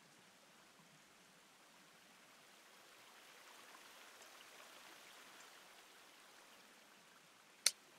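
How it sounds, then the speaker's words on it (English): A running stream in the survival game The Forest gives a faint, steady, distant rush of water with no voices, ending in a single sharp click. "Oh, I hear running water."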